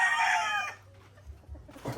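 Farmyard chickens cluck loudly at close range, a rooster's crow standing out at the start before fading into quieter scattered clucks and rustling, with one more burst of calls near the end.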